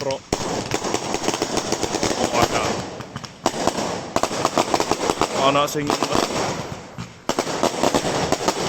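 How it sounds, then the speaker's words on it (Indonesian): Dense crackling bursts of fireworks go off almost continuously in rapid volleys, loud and close, while a voice speaks briefly underneath. "kembang api."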